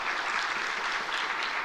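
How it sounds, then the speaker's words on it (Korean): A church congregation claps together in congratulation during a Sunday service, steady dense applause filling the whole moment without a pause. "우리 박수로 한번 축하하겠습니다"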